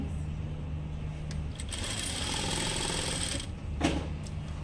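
A sewing machine stitches piping onto a blouse, a steady mechanical whir that swells in the middle and is joined by a brief clatter near the end.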